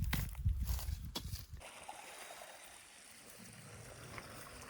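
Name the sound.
field water trickling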